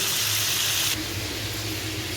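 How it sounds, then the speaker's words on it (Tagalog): Fish frying in a pan, a steady close sizzle and hiss that runs throughout, with a slight drop in brightness partway through. "Hintayin lang natin na maluto yung prito nating isda."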